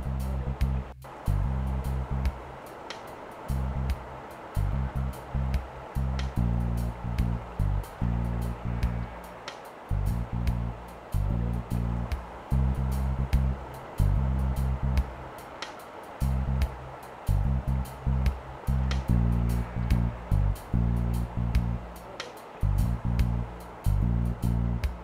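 Stream water rushes and churns while a volunteer kick-samples the streambed for a water-quality survey, the flow surging in repeated, uneven pulses of splashing over a constant watery hiss.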